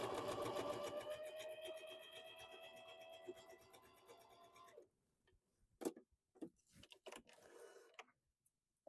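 A Bernina sewing machine stitches a zigzag at stitch length 2 and width 5, its rapid, steady mechanical ticking running loud for about five seconds before stopping, followed by scattered handling clicks and thumps.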